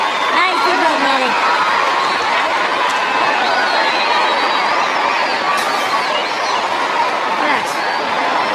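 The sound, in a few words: Mexican crowd cheering at a boxing fight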